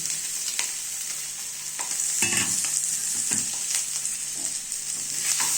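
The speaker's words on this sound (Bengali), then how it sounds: "এইভাবে ক্যাপসিকামটা ফ্রাই হওয়ার পরে আমি সাথে আলুগুলোকে দিয়ে দিলাম" Potatoes go into frying capsicum with chopped green chilli, a steady close sizzle of hot oil with scraping stirs of a spoon against the pan, no talk.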